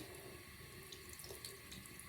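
Water runs steadily from a sink tap in a faint, continuous splashing rush, with small drips and splatters in it and no voices.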